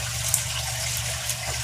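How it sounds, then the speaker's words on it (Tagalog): Water being pumped out of a small wooden koi pond, a steady rushing gush with a low pump hum running evenly throughout, close and continuous with no talking. "Ipapump lang po natin yung tubig guys para mas mabilis."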